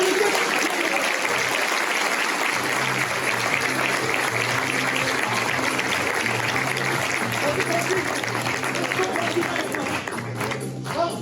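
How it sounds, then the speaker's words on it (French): Steady applause from the audience at a town New Year's wishes ceremony in Templeuve-en-Pévèle, a dense continuous patter of many hands filling the room at close range, easing slightly near the end. "Applaudissements pour Jean Denis."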